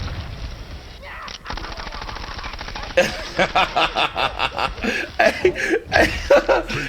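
Joker fires a gun in Mortal Kombat 11, a rapid burst of loud rhythmic shots that follows a stretch of manic laughter and continues in spaced bursts to the end.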